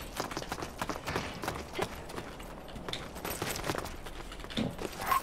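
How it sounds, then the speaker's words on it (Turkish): Footsteps in Super People, a series of faint, irregular thuds and scuffs like someone moving nearby at a distance, quiet and alone without talking. "O ayak sesleri senin mi?"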